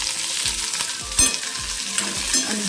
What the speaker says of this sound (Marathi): तेव्हा आपण यामध्ये तेल घालू